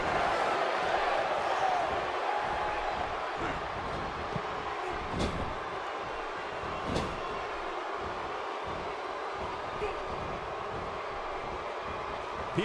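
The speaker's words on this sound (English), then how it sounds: "by the sound of this crowd, I think they're getting what they wanted." A dense, roaring arena crowd in the WWE 2K17 video game fills a battle royal match with a continuous wash of cheering, a few sharp thuds cutting through, steady and loud throughout.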